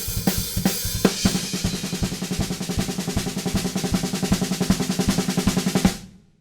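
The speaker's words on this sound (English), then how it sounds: "To finish off this verse, we're going to build up on the snare drum" Snare drum build-up from a song: rapid, evenly spaced drum hits accelerating and swelling in intensity over a driving beat, close and loud, ending with a ringing decay.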